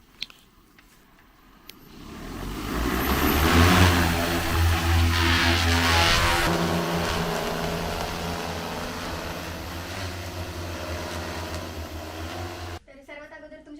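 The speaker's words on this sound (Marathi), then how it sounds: "अॅग्रोजेट सिक्स्टी जो की रुचा यंत्राचा ड्रोन आहे त्याने आपण फवारणी करणार आहोत" A loud, steady mechanical whine with a strong low hum from an agricultural spraying drone rises after a quiet start, holds for several seconds, then cuts off abruptly near the end.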